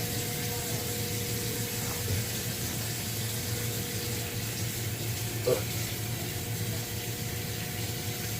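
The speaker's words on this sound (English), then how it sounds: "Wash your hands." Tap water runs steadily into a sink while hands are washed, a constant close hiss and splash with a few small knocks, no talking.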